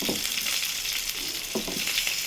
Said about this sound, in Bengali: পেঁয়াজটা ভাজা ভাজা করে নিই।